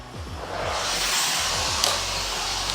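A Bissell Powerfresh steam mop with its scrubber running on high gives a steady loud whirring drone with a low pulsing motor hum, close by and continuous, with no voices.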